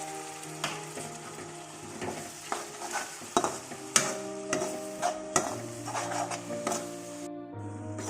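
Spice paste for chicken curry cooks with added water in a pan, stirred with repeated scraping and tapping strokes over a low bubbling sizzle, with a faint steady hum underneath.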